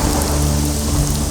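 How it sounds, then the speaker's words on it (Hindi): Heavy rain pours steadily onto surfaces, a loud, dense, continuous wash of drops with a low rumble underneath and no pause. "देख लो ये आखिरी आखिरी बारिश है"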